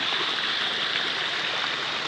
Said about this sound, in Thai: ปากรอบจะรับปลานะครับปลาจะโดดขึ้นมาตามน้ำไหลนะครับ